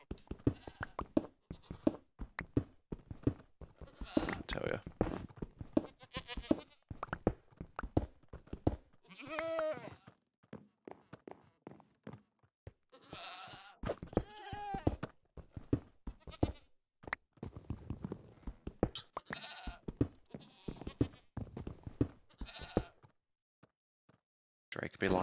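Minecraft goats bleat again and again in the video game, wavering nasal cries scattered among steady clicks and knocks of block building over a continuous game soundscape.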